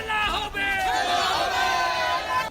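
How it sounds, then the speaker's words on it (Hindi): A crowd of TMC supporters chanting slogans in unison on a street in Asansol, a loud, sustained massed roar of voices that rises and falls over a couple of seconds. "टीएमसी के समर्थक भीड़ जुटाकर नारेबाजी करते नजर आए"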